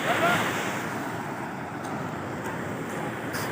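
Rough sea surging against the coast at Aurora in the Philippines: a broad, continuous roar of surf mixed with wind buffeting the microphone, loudest at the start and then holding steady.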